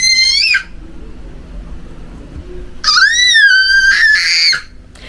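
A young girl screams in two shrill, wavering bursts, one short and one longer, loud and close, with a quieter gap between them and no talk.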